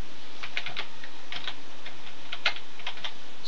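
Typing on a computer keyboard, a light, irregular patter of close key clicks with short pauses, no voices.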